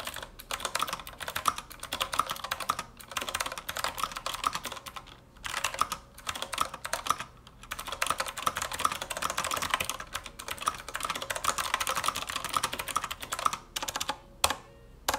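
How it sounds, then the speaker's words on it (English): Fast, continuous clacking of an Azio Retro Classic mechanical keyboard being typed on, close and crisp, with brief pauses between bursts. "the typing experience feels very, very tactile, clicky, and crisp"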